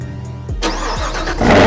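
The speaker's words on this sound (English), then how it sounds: "I just start my vehicle, make sure it works" A 2018 Chevrolet Camaro ZL1 engine cranking briefly and then firing into a loud, deep rumble that swells toward the end, heard close up with no voices.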